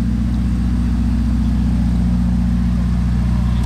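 A Ferrari SF90 with an aftermarket carbon-tipped exhaust idles steadily, its loud, deep engine drone holding even and unbroken throughout without any revving.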